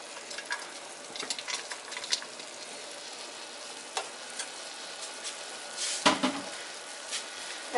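Garlic fries in a pan for a budget homemade lasagna, a quiet, continuous sizzle close by, dotted with light crackles and a few soft clinks and pan knocks, one slightly louder near the end.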